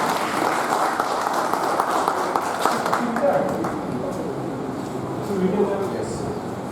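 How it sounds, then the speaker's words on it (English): Students in an MBA session give a round of applause, a moderate wash of clapping carrying through with some room hum and a voice briefly audible underneath toward the end. "Big round of applause."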